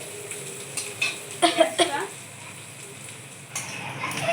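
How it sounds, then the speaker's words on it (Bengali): Soft sizzle of onions lightly frying in a pan for a thin chicken curry, under a few scraping stirs and clinks of a utensil against the pan, close by with a voice talking. "এই যে আমার পেঁয়াজটা হালকা ভাজা হয়ে গেছে"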